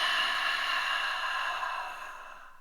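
A full, slow exhale during a breathing exercise, heard as a close, airy rush of breath that holds steady and then fades as the lungs empty, with no speech.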